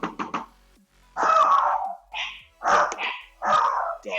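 A dog barks repeatedly nearby, first in a few quick yips, then in several loud, separate barks spaced roughly half a second apart.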